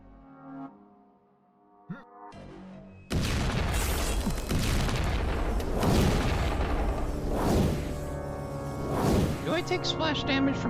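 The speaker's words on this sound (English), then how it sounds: "Do I take splash damage from my own explosions or not?" Explosions go off in the video game Kill the Creator: dense, loud booming bursts with whooshing debris fill the clip after a quiet start, recurring in heavy waves, while a player talks over them.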